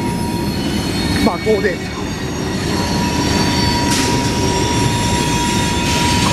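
Steel wheels on a CSX mixed freight train squeal and screech as it turns through a curve in Marion, Ohio, a loud, sustained metallic whine with rumbling underneath; a voice briefly speaks nearby.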